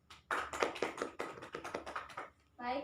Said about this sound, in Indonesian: mari kita berikan tepuk tangan untuk Indah